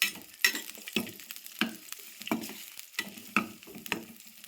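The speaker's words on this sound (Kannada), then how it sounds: "ಈಗ ಉಳ್ಳಾಗಡ್ಡಿ ಮತ್ತು ಕೊರ್ಗವು ಒಂದು ಸ್ವಲ್ಪ ಫ್ರೈ" Onions frying in oil in a pan while being stirred, heard close up as a rhythmic series of sizzling scrapes, about one every half second, with no talk over it.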